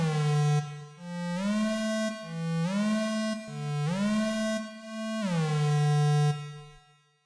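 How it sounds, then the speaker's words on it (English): Sampler instrument in n-Track Studio 10 playing a legato line, each note gliding smoothly up or down into the next, a bright, clean synthetic tone sustained over several seconds with no voices. "Here's how the legato glide option sounds."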